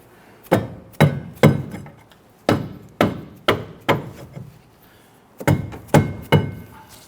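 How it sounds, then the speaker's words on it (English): Heavy dull thuds from a dead blow hammer knocking a brake rotor on a Honda Ridgeline, struck in uneven bursts of two or three blows with short pauses, close and loud. "We're just using our dead blow hammer here."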